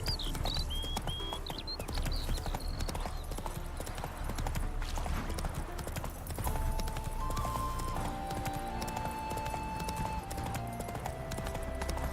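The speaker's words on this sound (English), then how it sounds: "Run, Roach" Galloping hooves of a horse in The Witcher 3 clip-clop in a steady, driving rhythm throughout, with game ambience and soft music tones rising beneath the hoofbeats in the second half.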